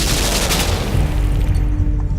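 Gunshot in the video game Limbo, a loud booming blast with dense low rumble sustained across the whole moment, fading slightly toward the end.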